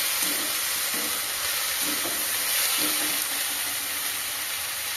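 Shrimp and spring onion fry in a pan with a steady, loud sizzle and hiss, broken by soft rhythmic scraping as a spoon stirs the mixture at regular intervals.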